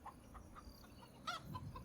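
Chickens cluck softly on a farm in the video game Farming Simulator 25, a few short, faint calls over a quiet background with no talking.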